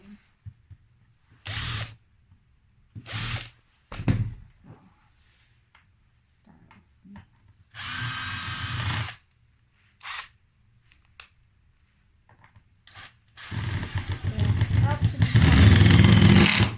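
Handheld power screwdriver driving screws into a small DIY farmhouse-style wooden shelf, in short whirring bursts separated by pauses, with a longer, louder run near the end, close to the microphone.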